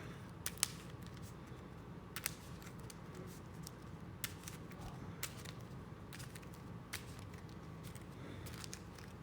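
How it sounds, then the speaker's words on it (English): Playing cards for a tabletop game deck being shuffled, giving soft, repeated riffling and snapping bursts at an uneven rhythm over a steady low room hum, fairly close and quiet, with no talking. "I should probably pause every time I shuffle like this"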